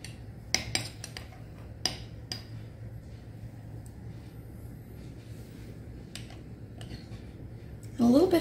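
Deviled egg filling being mixed in a bowl with a splash of dill pickle juice: a few faint, scattered utensil clinks and taps, mostly in the first two seconds, over a steady low background hum.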